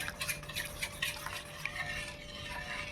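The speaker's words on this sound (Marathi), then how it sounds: "गॅस न पेटवताच आधी हे सगळं व्यवस्थित मिक्स करून घेऊया" A flour and water mixture for papad is stirred in a pot on an unlit stove, giving a steady close scraping and swishing that runs without pause and with no voices.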